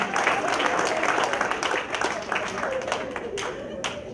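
Steady applause from a crowd, dense clapping sustained throughout with a few sharper claps standing out near the end.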